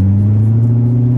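A Corvette engine drones in a steady, loud, low hum as the car drives, close and constant with no voices over it.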